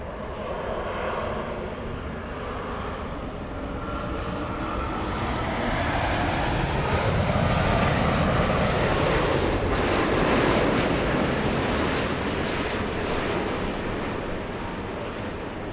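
A passenger jet on short final to runway 24 Right at LAX swells into a broad, steady roar that builds toward the middle and eases slightly, heard from a distance with wind noise and no voices.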